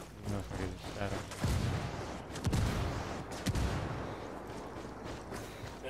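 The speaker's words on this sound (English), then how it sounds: "That explosion's kind of suspicious." A mortar strike explodes in a military shooter video game, several booming impacts and crackling blasts landing over a few seconds amid a busy mix with voices talking.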